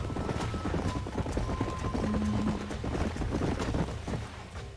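Horses run across open country in the Western video game Red Dead Redemption, a steady rapid clatter of hooves under wind rush, with a brief tonal whistle partway through.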